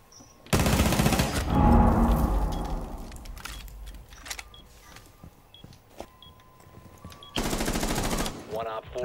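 Rapid automatic gunfire from the video game Rainbow Six Siege, loud bursts at the start and again near the end, with quieter game sounds and faint voices in between.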